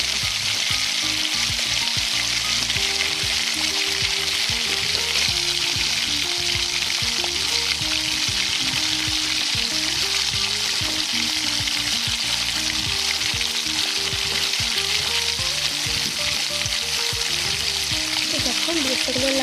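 Onions frying in oil for chicken biryani give off a loud, steady, dense sizzle that runs unbroken throughout, with occasional stirring noises underneath.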